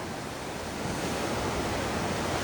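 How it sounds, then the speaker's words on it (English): Ocean surf and wind at a rocky shore on a windy morning, a steady loud roar of breaking waves with gusts buffeting the microphone, no voices. "But what you have also been treated to is the natural raw power of the ocean up here."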